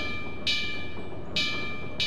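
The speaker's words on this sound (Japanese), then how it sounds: "鬼の襲撃を知らせる警鐘だ" Three evenly spaced strikes of an alarm bell warning of a demon attack in Toukiden 2 ring out clear and metallic over a quiet ambient backdrop, each leaving a brief shimmering tail.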